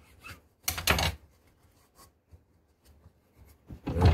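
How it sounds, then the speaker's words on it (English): An old file or sandpaper rasps over the rough spots of a wooden 410 shell in a few short, scratchy strokes close by, separated by quiet gaps. "sand the old rough places off."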